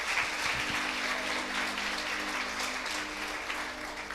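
A church congregation applauds steadily in a dense, continuous wash of clapping with a low hum underneath, sustained throughout at moderate loudness.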